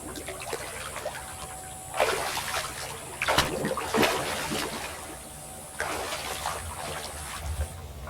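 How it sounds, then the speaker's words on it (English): Arm strokes splash through the water of a swimming pool, with several surges of sloshing and dripping as an arm pushes down and lifts out; close and moderately loud, no talking. "I'm going to push the water down and then bring my arm out"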